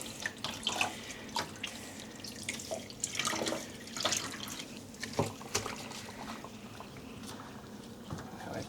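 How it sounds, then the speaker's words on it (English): Wet, freshly dyed cotton yarn squeezed out by hand over a sink, water splashing and trickling in uneven bursts with short drips, fairly close and moderately loud, with no talking. "I'm just squeezing out the water before rinsing."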